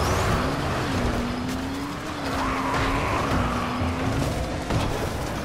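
Car driving in the game Dying Light: The Following, a steady engine drone with a rising and falling pitch that shifts as it accelerates, loud and continuous with tyre noise throughout.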